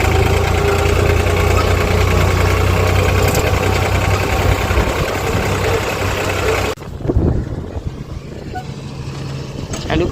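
A loud, steady tractor engine idles close by in a wheat harvest field with a low rumbling drone, then briefly drops and shifts as other noises come in.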